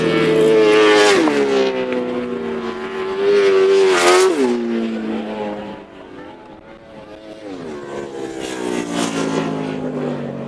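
Grasstrack sidecar racing outfits at the 2017 British Masters race loud and close, engines rising and falling in pitch as they accelerate past, with no talking.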